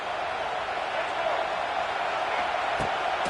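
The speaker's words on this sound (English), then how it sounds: "This crowd knows when to bring it." Steady roar of a packed football stadium crowd cheering loudly throughout at a Virginia Tech vs Washington college game, a broad sustained wall of noise with a brief sharper swell near the end.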